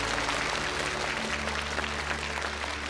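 Sustained audience applause fills a television studio after a performance blending Yue opera singing with a classic poem, a dense even wash of clapping throughout with no voices over it.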